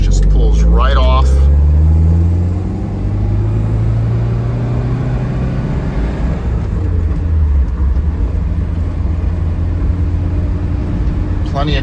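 A 1973 Alfa Romeo Spider with a 2-liter engine pulls away in second gear, its steady engine drone and rising revs filling the cabin; someone speaks briefly at the start.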